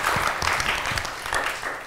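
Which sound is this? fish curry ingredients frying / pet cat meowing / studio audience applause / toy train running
studio audience applause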